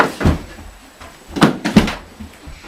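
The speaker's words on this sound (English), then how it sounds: "I'm just gonna use the door." A door or cupboard being opened and shut, a few sharp wooden knocks and thumps spaced out over about three seconds, close and clear with no talking.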